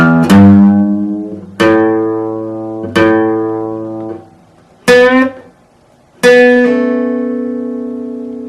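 Slow guitar phrase of five plucked notes and chords, each ringing and fading before the next, with short gaps between them.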